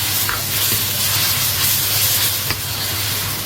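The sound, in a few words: vinegar sizzling in a hot wok of stir-fried chicken giblets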